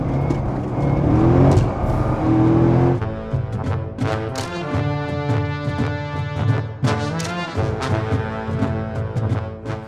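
A 2007 Corvette Z06 engine is close and loud, rising through a couple of rev sweeps and then holding a harmonic-rich idle with sharp blips.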